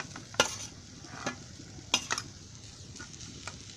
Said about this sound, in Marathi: आता त्याच्यामध्ये आहे ना हे बटाटे किसलेलं आहे ना ते टाकते.